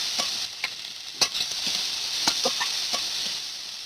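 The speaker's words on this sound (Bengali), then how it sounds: "এদিকে হলুদ দিয়ে দিচ্ছি, বেশ করে ভালো করে নেড়ে নেবো।" Tomatoes with turmeric fry in oil in a wok, giving a steady bright sizzle, while a utensil stirs them with repeated scraping clicks at close range.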